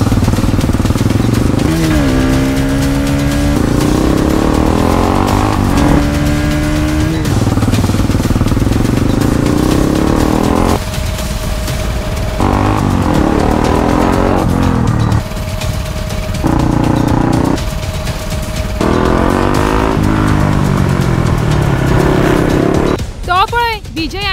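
A scooter and motorbikes race past in quick succession, engines revving and whining with rising and falling pitch as each passes near, over a continuous mechanical roar and clatter.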